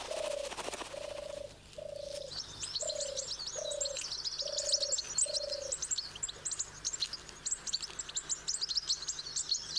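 A steady, fairly faint chorus of high, rapid chirping builds and continues in the British countryside, like goldfinch chicks begging their parents for food, while a low repeated cooing call sounds at the start.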